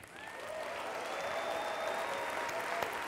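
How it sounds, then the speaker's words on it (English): An audience at a One Young World gathering applauds in a dense, sustained wash of clapping that holds evenly for a few seconds, with a faint tone or whistle drifting through the crowd noise. "please join me in clapping some of the most fantastic human beings in the world"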